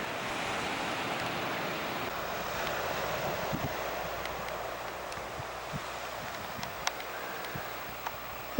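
Ocean surf rolls steadily onto Beach Meadows Beach in Nova Scotia, a continuous wash of waves with wind noise across the microphone and no talk.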